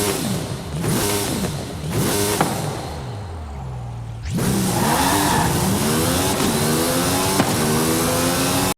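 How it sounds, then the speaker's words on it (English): Car engines in Forza Horizon 5 rev and roar in a canyon, sound echoing off the walls, pitch rising and falling through repeated gear shifts, then a sudden loud burst of engine noise that keeps climbing. "you can hear the car's sounds bouncing off the walls of the canyons"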